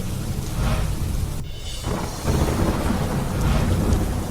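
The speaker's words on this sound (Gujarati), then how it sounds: "લાંબા વિરામ બાદ પાટણમાં વરસાદ" Heavy monsoon rain falls in Patan, a dense, loud, continuous hiss with a deep rumbling low end, dipping briefly before surging back.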